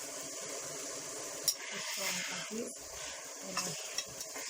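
Meat sizzling and being stirred in a pot for Tajik plov, a constant frying hiss with scraping stirs and a few utensil knocks.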